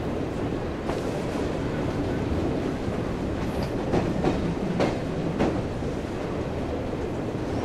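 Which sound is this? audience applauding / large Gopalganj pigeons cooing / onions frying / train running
train running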